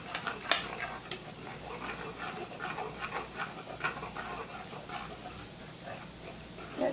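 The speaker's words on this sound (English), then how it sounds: "you just mix this till it forms a dough" Bisquick baking mix and whole milk are stirred together into a dough, making soft, wet scraping and squelching sounds at a low level, with a few sharper knocks of the utensil.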